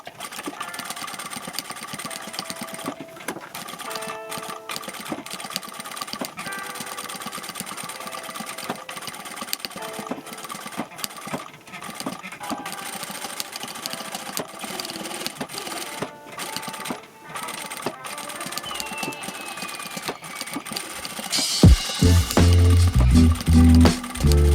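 A sewing machine stitches around the seam allowance of a fabric vanity cosmetic bag, a steady, close mechanical whir running on for over twenty seconds before a louder, harsher burst of motor noise at the end.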